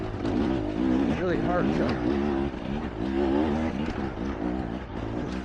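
A 2025 Husqvarna TX300 two-stroke dirt bike revving on a bumpy mountain trail, its engine droning and rising and falling steadily throughout, with a rider talking over it.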